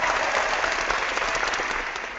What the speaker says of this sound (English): Because I'm going to clap.